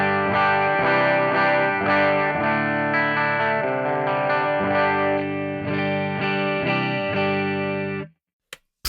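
An HSS Vola Strat played through the Brilliant channel of an STL AmpHub, ringing chords with a chorus-like shimmer strummed in a steady rhythm for about eight seconds before cutting off to a brief click.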